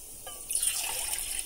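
Water is poured into a pan for wheat flour halwa, a short, close splashing trickle that starts after a brief pause and runs steadily to the end.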